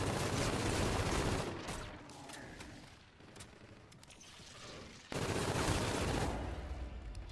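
Submachine gun fire in a video game: dense rapid bursts, loud and close, easing into quieter scattered shots midway before another heavy stretch of fire resumes.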